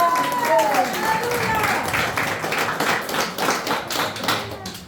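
A church congregation applauds during a Spanish-language service, with many hands clapping in a sustained, fairly loud wash and a voice carrying over the start.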